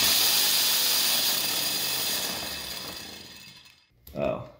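A grinder-powered pencil sharpener whines loudly and steadily, then winds down and cuts out as the assembly comes apart, followed by a brief clatter.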